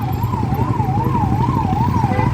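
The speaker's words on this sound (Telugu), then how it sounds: "accident ambulance ambulance" A wailing ambulance siren rises and falls steadily and loudly over engine rumble from night-time Bengaluru traffic.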